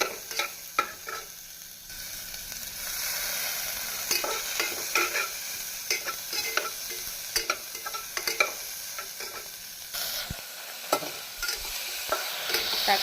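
Tomatoes, onions and curry leaves sauté in a pan for sambar, giving a steady close sizzle broken by repeated scraping stirs of a spoon, with no talking.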